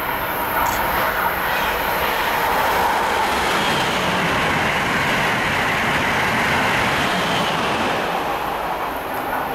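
Amtrak or MARC train rolling into a station between Washington and Baltimore, a loud, continuous close rumble and roar sustained throughout with a faint high squeal early on.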